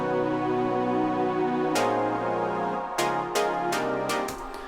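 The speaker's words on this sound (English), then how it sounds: "Some keys layers, which is a mixture of the electric piano, this pluck synth, and this long pad." Layered keys from a track breakdown: an electric piano, a pluck synth and a long sustained pad play together as one blended chord bed, with sharp bright plucked attacks landing in quick succession near the end over the steady pad.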